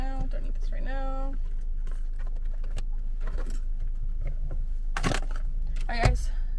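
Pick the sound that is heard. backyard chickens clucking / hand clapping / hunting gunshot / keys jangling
keys jangling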